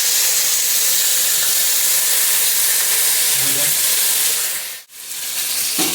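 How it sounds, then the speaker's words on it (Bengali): Water poured onto hot ground spices, cumin and slit green chillies in a pan sets off a loud, dense sizzling hiss that fills the space, dipping abruptly near the end before surging back. "মশলার বাটিটা ধুয়ে একটু জল দিয়ে দিচ্ছি।"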